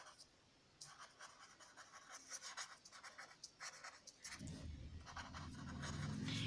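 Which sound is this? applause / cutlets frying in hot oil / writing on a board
writing on a board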